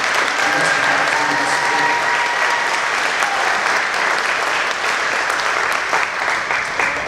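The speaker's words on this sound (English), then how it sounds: "So I thought a round of applause for the Mandarins Music Academy." Audience applause at an honor band concert, dense sustained clapping from a large crowd filling the whole stretch at an even, loud level.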